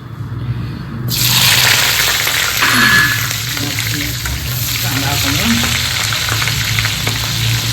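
Onions drop into hot oil in a pan and set off a sudden loud, steady sizzle that carries on close by, with a voice speaking faintly under the frying.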